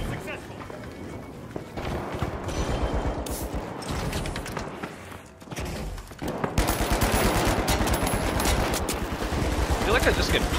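Gunfire in the shooter game The Finals: rapid bursts of automatic shots, loud and close, with explosive bangs and footsteps, under frequent talk.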